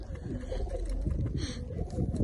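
Pigeons sheltering together inside a dovecote coo continuously in a dense, close, throaty murmur, with a few brief wing flutters and faint background noise.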